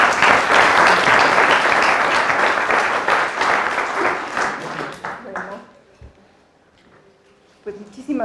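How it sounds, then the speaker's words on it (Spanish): An audience at a magazine issue presentation applauds to welcome a guest speaker. Loud, full clapping holds for about five seconds, then fades away to near silence before a voice begins speaking. "Les pido un aplauso para recibirla."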